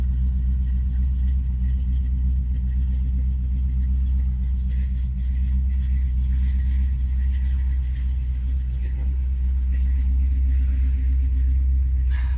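A 1955 Chevy 210 with a 350 engine idles through headers, an X pipe and Flowmaster exhaust, a deep, loud, rumbling burble, steady and close throughout, with faint sounds in the background.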